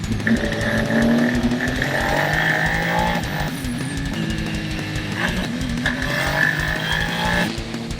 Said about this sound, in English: Behind Nomura, David and Kobayashi were in a fierce battle for second position